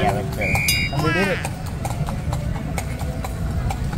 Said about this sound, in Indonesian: Naik kuda.